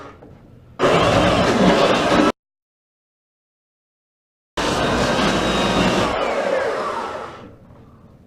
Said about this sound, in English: obviously the belt sander worked a lot better